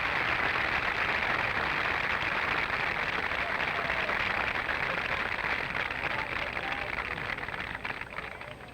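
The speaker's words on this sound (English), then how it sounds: "Both acknowledging the applause a moment ago as they reached the 17th green." Sustained applause from the gallery around the 17th green in the 1970 Masters final round, a broad steady roar of clapping that holds loud and close throughout, easing slightly near the end, with no talk over it.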